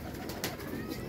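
A female Lahori pigeon gives a brief, soft coo at a pigeon loft in Lahore, faint and close, over low background murmur.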